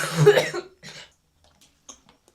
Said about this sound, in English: I feel like I need to clear my throat